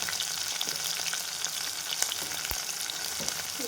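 Green chilli, onion and ginger-garlic paste fry in hot oil with cumin, giving a steady close sizzle with occasional crackles and a few stirring knocks.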